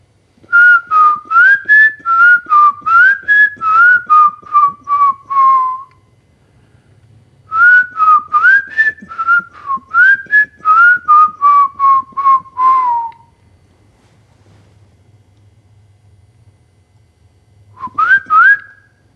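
A person whistles a memorized songbird melody, clear rapid trilling phrases that rise and fall, in two long bursts separated by a pause, then a brief final fragment; the voice imitates the bird's call alone against quiet room tone.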